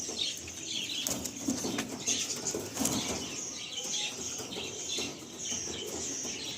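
Pigeons of a breeder pair being released at a loft in Kolkata, with soft wing flaps, faint cooing and small chirps over a steady outdoor background, no voices.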